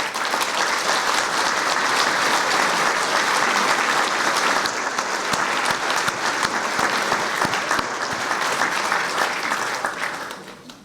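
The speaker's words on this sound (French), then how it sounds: "je vous demande de les applaudir" Steady, dense applause from an audience at a mayor's New Year greetings ceremony, honouring association volunteers, continuing evenly for about ten seconds before tapering off.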